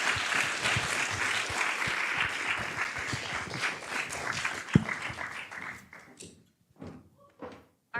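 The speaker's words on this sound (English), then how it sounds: "let's give a round of applause to Capsule" Audience applause for a startup team at a pitch event: steady clapping from a crowd with a sharp thump partway through, fading into scattered claps, a few knocks and stray noises.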